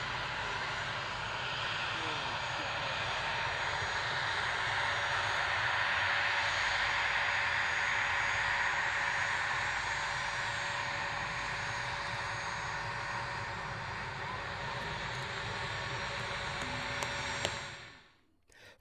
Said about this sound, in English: For one of the practice days of the Royal International Air Tattoo, that fabulous A10.